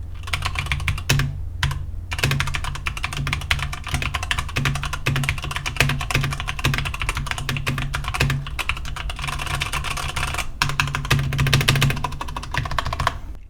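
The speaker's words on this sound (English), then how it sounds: "let's do a little typing test really quick." Steady, fast clacking from a Redragon K556 full-size mechanical keyboard with brown switches and a metal build, keys struck in quick uneven bursts with brief pauses and spacebar thumps, close and alone.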